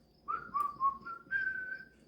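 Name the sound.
person whistling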